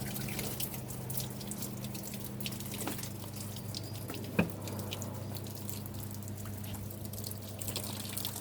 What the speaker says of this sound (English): Put a little water in there. We want it wet.